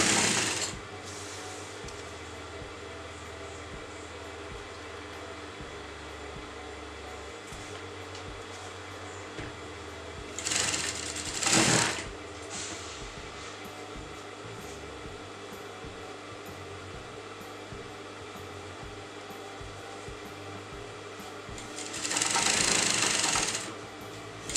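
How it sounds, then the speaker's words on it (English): A sewing machine stitches a skirt border onto a frock bodice with a quarter-inch seam allowance, a steady mechanical whir running close throughout, broken by a few louder bursts of handling noise. "Leaving a quarter inch of seam allowance, I'm going to sew both like this."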